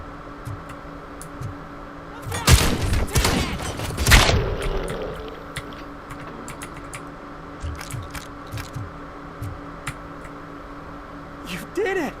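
Shotgun fire in the RoboCop Rogue City video game: two loud, close, sharp blasts in quick succession with ringing tails, then quieter scattered game sounds.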